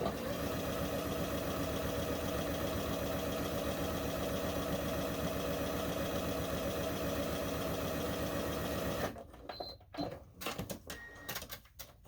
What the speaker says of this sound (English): so I'm just going to sew all these together.